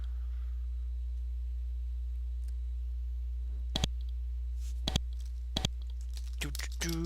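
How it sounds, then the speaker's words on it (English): Keyboard typing in the computer role-playing game Avernum 2: a few sharp isolated key clicks, then a quick burst of taps near the end, over a constant low game hum. "I am typing."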